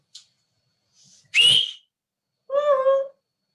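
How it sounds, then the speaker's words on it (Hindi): A woman whistles loudly through her fingers, one sharp shrill blast followed by a longer, steadier two-note whistle, close and alone after a few faint clicks. "सीटी में बजा सकती हूँ, मैं तो उंगली से भी बजा सकती हूँ ऐसे"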